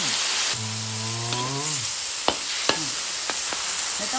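Pork sizzling in a frying pan as water is poured in: a steady, close hiss of frying with a brief rising and falling whine near the start and a few sharp crackles and pops afterward.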